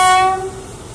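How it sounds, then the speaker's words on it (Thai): A locomotive horn at Chumphon station signals the departure of train 254, hauled by an Alsthom locomotive. One loud, sustained horn blast opens the clip, then drops away into quieter station ambience. "ครับผมได้สัญญาณการปล่อยขบวนรถจริงๆแล้วนะครับ"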